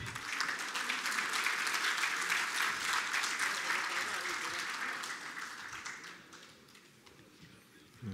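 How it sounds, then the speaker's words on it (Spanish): Sustained audience applause at an award ceremony, a dense wash of clapping that holds steady for several seconds and then gradually thins out and fades near the end. "Un aplauso para ellos"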